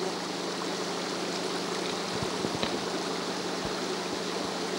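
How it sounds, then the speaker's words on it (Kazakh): A spring-fed stream flows in a steady, soft wash, with a few faint low knocks or bumps near the middle; fairly quiet and continuous, with no voices. "осы бұлақтың су ағысына"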